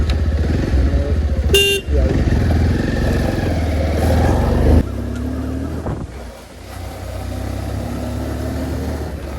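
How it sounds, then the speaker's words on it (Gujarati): A motorcycle engine runs loudly nearby with a steady throbbing idle, wind buffeting the microphone and a brief high beep early on. "ફાઇનલ બાઇક ચાલુ કરી દીધું"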